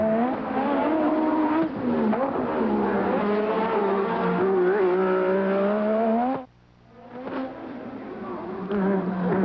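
Formula One cars of 1986 scream along the downtown street circuit in Adelaide, Australia, a continuous loud, high-pitched engine whine rising and falling through gear changes, cutting out briefly before another car's engine swells back in.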